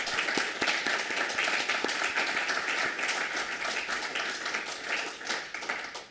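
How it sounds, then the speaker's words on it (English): Dense, sustained applause from a lecture audience at New College fills the room evenly and continuously, tapering slightly toward the end, with a faint steady hum beneath. "perhaps we should applaud Patrick"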